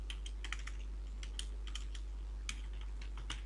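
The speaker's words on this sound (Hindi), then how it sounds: "हमने यहाँ पे टाइप कर दिया" Quick, irregular clicks of a computer keyboard as words are typed into Microsoft Word, close and fairly quiet over a steady low hum, with no talking.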